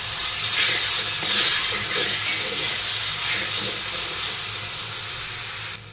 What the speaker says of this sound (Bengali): দিয়ে দেব চিংড়ি মাছগুলো।